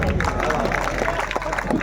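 An audience at a poetry recital of Urdu nazm applauds steadily, a loud sustained patter of many hands clapping with crowd murmur throughout.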